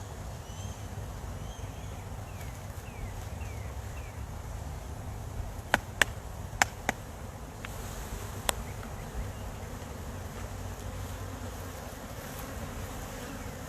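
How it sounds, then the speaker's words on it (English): Agitated honey bees buzz steadily around opened hive boxes, a dense, continuous hum close by with a few sharp clicks and knocks partway through, and no one speaking. "We've upset some bees, that's for sure."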